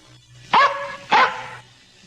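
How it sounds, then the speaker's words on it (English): A dog gives two loud, sharp barks about half a second apart, close by, with faint background sound between and no speech. "We'll take care of this mutt."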